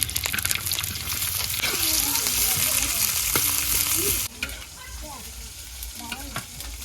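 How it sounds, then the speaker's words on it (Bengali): Onion and green chili dropped into hot oil in a kadai for a village-style okra curry make a strong, continuous close sizzle that suddenly eases into a softer frying hiss, with faint voices in the background. "পেঁয়াজ কাঁচামরিচ দিয়ে দিলাম"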